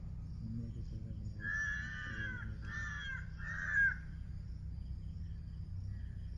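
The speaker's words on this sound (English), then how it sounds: "Crows." Crows caw in Salem, Tamil Nadu, India, giving about three harsh, fairly close calls in quick succession over a steady background chirr of crickets.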